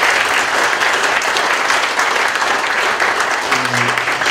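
A Korean lecture audience gives the speaker a renewed round of applause, loud and continuous crowd clapping filling the room, with a brief low tone near the end.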